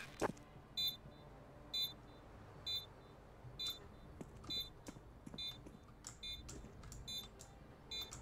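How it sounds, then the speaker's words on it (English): A planted bomb in Rainbow Six Siege beeps after activation: short, bright electronic tones repeat roughly once a second over faint clicks and game noise. "Activating the bomb."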